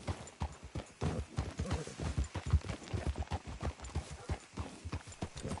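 Horse hooves clop in a quick, steady trot across the ground in Red Dead Redemption 2, distinct and rhythmic throughout, with no voices over them.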